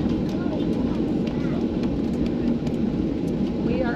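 Airliner taxiing toward the runway, heard from inside the cabin as a loud, steady engine rumble and roar with no break.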